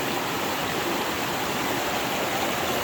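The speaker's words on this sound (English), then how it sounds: "Washing all the material down into the bucket." Water rushes steadily through a gold sluice at 12 Mile Creek in New Zealand, washing gravel and material down into a bucket. It is a continuous, close, even wash with no voices.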